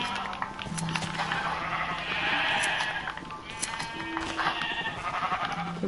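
Blocky game sheep bleat repeatedly in Minecraft, a steady stream of nasal, wavering bleats layered over game sounds, fairly close and clear with no talking.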